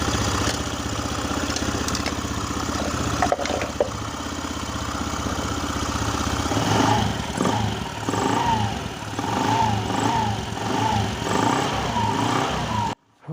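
A Honda Scoopy scooter engine, being test-run after repair for a fault where it keeps revving, runs steadily close by, with throttle blips and uneven revving in the second half before cutting off abruptly.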